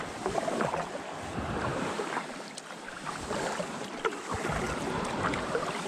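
Kayak paddling along a calm North Sea shoreline, with gentle water swishes and light paddle splashes over soft wind and distant surf, no voices.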